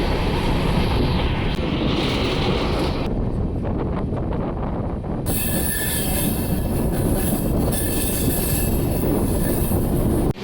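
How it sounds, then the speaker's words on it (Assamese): Nagaon Express passenger train, number 15630, rolls steadily along the rails in Assam, a loud continuous rumble of wheels and carriage noise with a sharper hiss joining partway through, no talking. "आमी जार्नी करी आसो train number 15630 Nagaon express train"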